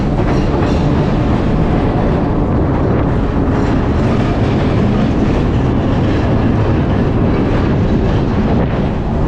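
A train passes close by near a Virginia Capital Trail bridge, a loud continuous rumble with rhythmic clickety-clack of wheels and some wind noise, no talking.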